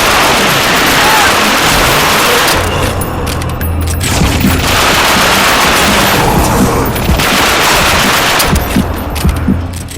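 Dual submachine guns firing in The Darkness II, loud sustained automatic bursts sweeping across a room, with booming impacts and near-constant rapid gunfire throughout, a voice speaking underneath.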